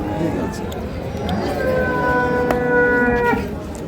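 Cattle low loudly at a busy Noakhali cattle market where dairy cows and calves are sold, one long drawn-out moo rising over steady crowd hubbub and nearby talk.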